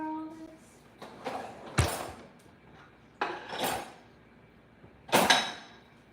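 Dishes are loaded into a home dishwasher in a kitchen: several separate clinks and clatters of crockery and utensils, spaced irregularly, with sharp bursts when pieces knock together, close by and with no talking.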